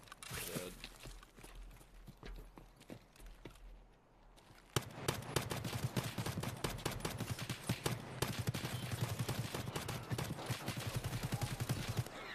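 Rapid video game gunfire crackles in dense bursts, louder and steadier after a brief lull near the middle, with faint footstep-like patter underneath.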